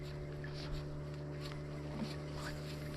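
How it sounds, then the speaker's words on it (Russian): A small motorboat runs across open water during a fishing trip, its engine a steady low drone with faint wind and splashing around it. "Такая интересная лодка, как катер, да, маленький?"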